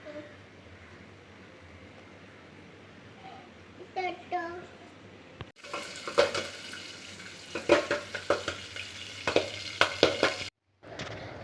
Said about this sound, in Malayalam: അവൾക്ക് വെക്കം തന്നെ ആ എണ്ണയിൽ തന്നെ പോപ്കോൺ ഇട്ട്